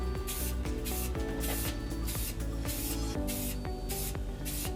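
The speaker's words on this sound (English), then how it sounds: "spray away" Gray aerosol spray paint hisses onto rock castings in a series of bursts, each lasting about half a second, with short pauses and faint can clicks between them.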